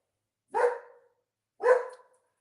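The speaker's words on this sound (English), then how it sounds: "Oh, I'm so sorry about the dog." A dog gives two separate loud barks about a second apart, close by and clear, with quiet in between and no voices.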